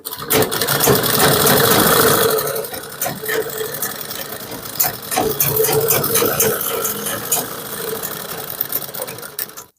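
A sewing machine runs fast and loud, double-stitching the side seam of a kurti, a dense mechanical whirring chatter that eases off briefly and then continues steadily to the end.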